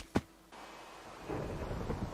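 In the video game Minecraft, a single sharp thunder crack opens a thunderstorm and is followed by a steady wash of rain and rumble.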